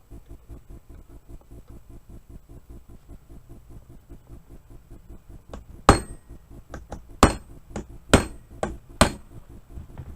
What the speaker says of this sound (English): hit with that brass hammer, or with the hammer on the brass fitting